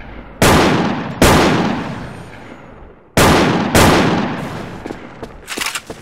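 Video game gunfire: four loud, heavy single shots ring out close by, each followed by a lingering decay, and a burst of smaller, rapid pops comes near the end.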